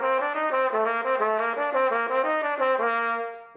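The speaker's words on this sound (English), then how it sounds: "say like the Arbin's book for trumpet or the Clark exercises, which sound like this" Trumpet plays a classical-style Clark exercise, a smooth, continuous run of legato notes stepping up and down in a steady rhythm, loud and close, alone with no talking.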